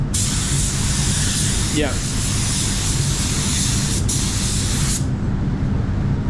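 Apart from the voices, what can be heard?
air blower drying car spray paint between coats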